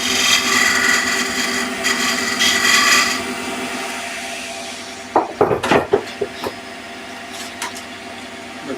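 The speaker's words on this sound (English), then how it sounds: "A little bit of sandpaper." Sandpaper of 180 grit rubs across wood on a tiered Japanese dovetail box, a steady scratchy hiss for about three seconds, then quieter, followed by a cluster of sharp taps and knocks after a pause.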